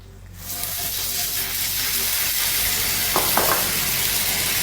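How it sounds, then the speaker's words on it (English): A tablespoon of butter hitting dissolved sugar caramel on low heat, starting quiet and then swelling into a steady close hissing sizzle, with a couple of brief stirring scrapes. "After the sugar has dissolved, we're going to add 1 tablespoon of butter."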